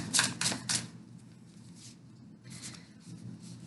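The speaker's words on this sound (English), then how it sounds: "Let me shuffle again." Tarot cards are shuffled by hand in a quiet room: three quick rustling bursts come first, then softer sliding and a few more brisk shuffles close by.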